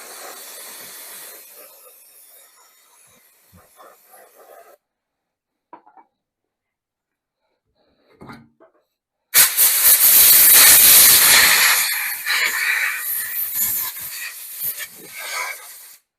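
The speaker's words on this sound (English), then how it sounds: "let me give it a little bit of spray here" Aerosol spray cleaning VW Beetle engine parts on a workbench: a loud, steady hiss bursts in after near silence and a few faint clicks, holding for several seconds before easing slightly.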